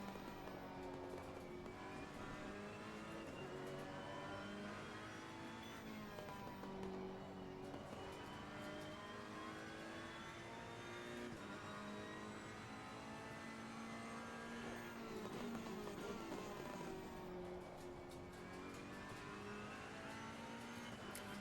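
Race car engine in Assetto Corsa Competizione revving and accelerating hard through gear changes, a steady loud drone rising and dropping in pitch over several shifts, continuous throughout with no talking.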